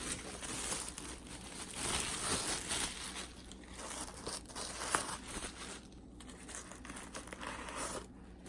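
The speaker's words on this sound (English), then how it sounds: "then they're still in plastic. Let me just unwrap this for you" Plastic wrapping crinkling and tearing as black leather Gucci espadrilles with a double G emblem are unwrapped, steady close rustling with occasional sharper crackles and no talk.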